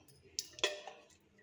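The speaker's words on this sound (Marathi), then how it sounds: "कढई ठेवली गॅसवरती." A metal kadhai (wok) set down on a gas stove in a home kitchen, giving two quick faint clanks close by, the second a little louder, with quiet background before and after.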